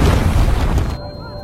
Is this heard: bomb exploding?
yes